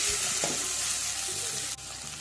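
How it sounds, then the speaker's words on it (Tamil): Garlic and tomatoes for tamarind curry (puli kulambu) sautéing in a pan, heard as a loud, dense sizzle and crackle with stirring scrapes near the start and a brief dip in the hiss toward the end; no one speaks. "தக்காளியும் வந்து வதக்கிக்கலாம்."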